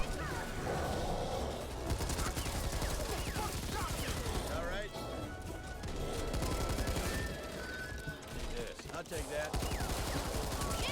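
Light machine gun fire in the zombie shooter game Back 4 Blood, long sustained automatic bursts with brief breaks, loud and dense, with a voice talking over parts of it.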